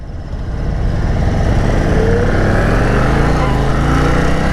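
A 2022 Indian Chief Dark Horse motorcycle accelerating hard, its engine note rising steadily to a loud, sustained roar close by with wind rush, and no talk over it.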